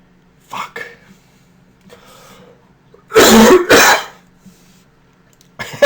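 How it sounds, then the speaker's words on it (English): Coughing and throat clearing from a person recording a statistics tutorial, with a faint throat sound early, then two loud, close harsh coughs back to back, and another starting at the end. "I'm just going to just work through my coughing"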